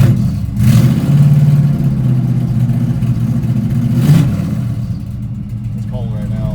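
A 1975 Pontiac Firebird Formula with an LS engine swap runs at a steady rumbling idle, rising in short revs around one and four seconds, loud and close, with a voice speaking over it.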